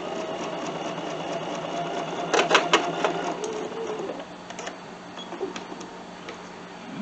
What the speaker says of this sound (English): I'm going to hold my threads to the side, and I'm starting on the fabric, just barely, but I am on the fabric.